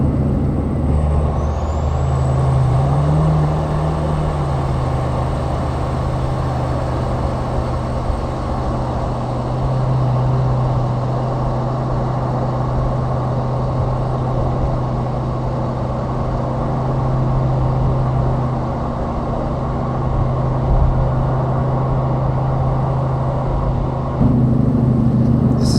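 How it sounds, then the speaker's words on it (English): A 2016 Peterbilt 389 truck engine idling steadily with a deep, continuous rumble, loud and close throughout, with no talking. "Well, here's a 2016 Peterbilt 389."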